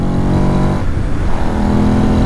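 A 2006 Ducati Monster S4RS motorcycle engine runs loud and close, its pitch shifting as it moves through the gears, with a steady strong drone and no talking.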